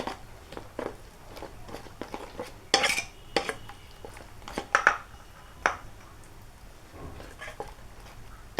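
Spices stirred in oil in a pan, a run of close metallic clinks and scrapes from a utensil against the pan, irregular and sharp, with no steady sizzle beneath.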